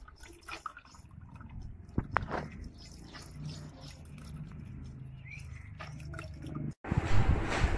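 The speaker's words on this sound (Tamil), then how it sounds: "ரெண்டு மூணு தடவை தண்ணி ஊற்றி நல்லா அலாசி" Millet grains being rinsed by hand in water, with soft sloshing, dripping and splashing through most of the span, and a louder burst of water near the end.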